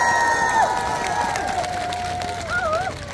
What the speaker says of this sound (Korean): 다시 한 번 더 여러분의 박수와 함성!